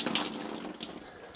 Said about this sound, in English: You're probably going to get some water dripping out of here